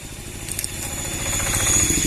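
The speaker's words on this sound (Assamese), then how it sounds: "আকৌ ওলালোঁ বাইক লৈ" A motorcycle engine running during a ride along local roads in Assam, a steady low throbbing drone with a gritty rattle, holding close and even throughout.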